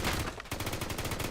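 Rapid burst of automatic gunfire from a weapon in an online shooter game, loud, close and continuous, with dense rattling shots across the whole moment and a brief gap near the start.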